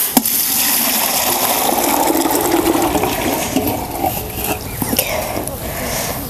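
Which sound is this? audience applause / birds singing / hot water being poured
hot water being poured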